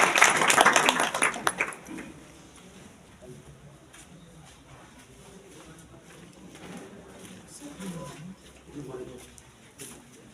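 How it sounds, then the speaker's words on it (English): At a school result announcement, an audience gives a short burst of applause for a student's third-place rank, loud at first and then fading into quiet room murmur and talk. "Give them a big round of applause for Asray"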